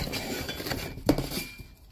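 Someone handles a Philipiak Milano cookware pot and lid, producing a single short metallic clink over a faint background rustle.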